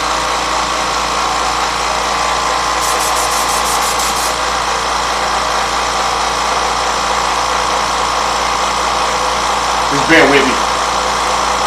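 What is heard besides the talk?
airbrush air compressor running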